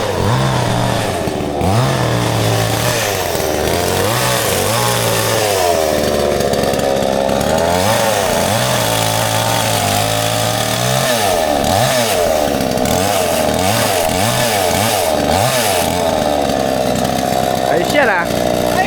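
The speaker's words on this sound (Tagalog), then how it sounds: "Ayan, mag-chenso na si Kuyang Bob." Chainsaw clearing brush around a house, its engine droning steadily and loudly throughout with repeated revving surges as it cuts, while people talk over it.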